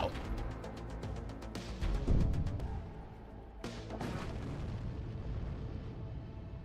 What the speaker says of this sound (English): Let's shoot a missile.